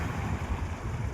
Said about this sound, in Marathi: बघ आता कशी लाट येते.